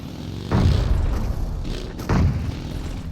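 Two heavy booming explosions go off in a video game, one after the other with a pause of about a second and a half. Each is a loud, low burst that fades into a rumbling tail.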